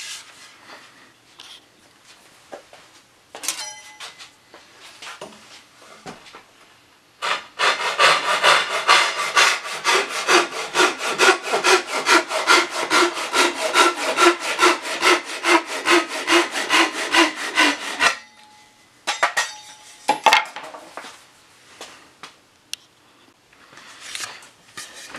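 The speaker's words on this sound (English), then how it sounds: "I'm going to cut this first with just a handsaw." A handsaw cuts through wood for a painted chair build, a long run of rapid rhythmic rasping strokes, loud and close, framed by quieter handling knocks and a few short scrapes before and after.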